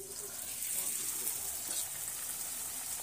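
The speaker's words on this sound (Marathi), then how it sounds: "आता तेल आपलं गरम झालं आहे, त्यात पुऱ्या आपण सोडून पाहू" Puris frying in hot oil, a continuous bright hiss and bubbling sizzle at moderate level with no talking over it.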